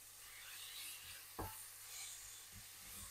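Pointed cabbage braises in a pan with a faint, steady sizzle and hiss, broken by a single soft knock or stir partway through, quiet and without talk.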